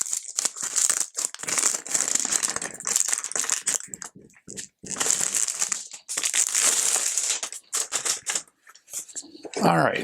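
Loud, busy crinkling and rattling of packaging material as a Crafter's Edge Crossover II die cutting machine and its cutting plates are unboxed, with continuous crumpling, tapping and shuffling noises close by.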